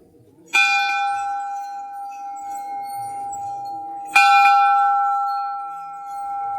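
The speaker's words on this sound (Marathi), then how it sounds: "आता मी घंटा वाजवून येतो इथे" A metal temple bell at a Kalimath shrine is struck twice, several seconds apart, each strike loud and close, ringing with a clear sustained tone that slowly fades.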